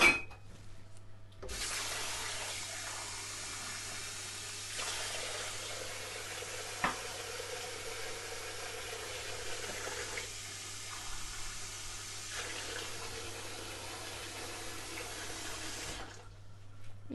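Water pours steadily into a pan for about fifteen seconds, a continuous close splashing stream that starts and stops abruptly, heard alone with no voices.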